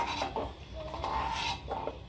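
Whole spices and asafoetida are dry-roasted in a pan for homemade masala powder, a spoon scraping and clinking against the metal in irregular stirring strokes, close up.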